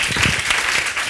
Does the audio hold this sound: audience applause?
yes